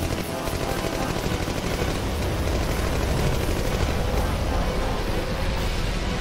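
Warplanes in the Master of the Skies: The Red Ace video game fly in a dense, continuous roar of engines layered with rattling gunfire, loud and steady throughout with no pauses.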